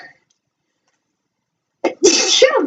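A single loud, close sneeze bursts out after near silence, with a sharp intake of breath first and a strong voiced release.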